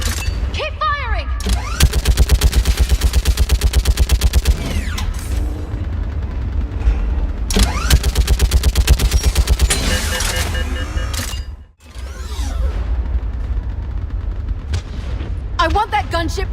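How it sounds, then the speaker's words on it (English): Rapid automatic gunfire rattles through a Mass Effect battle scene, long dense bursts broken by short pauses and one brief silence, with mechanical whirs and shouted voices over the shooting. "Keep firing!"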